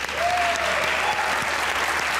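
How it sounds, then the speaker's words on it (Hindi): Studio audience on a Pakistani comedy talk show claps steadily in a short, even burst of applause, with a faint tonal voice gliding over it. "आज की तालियां बजाइए अपने लिए"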